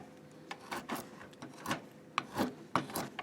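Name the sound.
hand-carving wood cap of a farmer gnome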